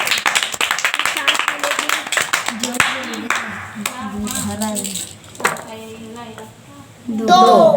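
A burst of quick overlapping claps from a group playing the board game Tiri Chauka, busy at first and then thinning out as people keep talking over and after it.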